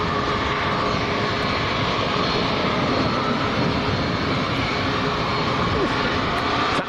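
An airliner taxiing slowly at Lanzarote airport gives off a constant, fairly loud jet engine rumble and whine that holds steady throughout, heard from nearby outdoors.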